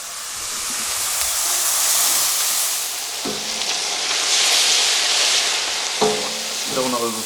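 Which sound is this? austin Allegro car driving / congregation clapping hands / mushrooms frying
mushrooms frying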